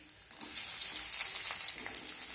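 Chopped onion fries in a pan with a close, steady sizzle and crackle, accompanied by faint scraping and stirring touches throughout, with no talk.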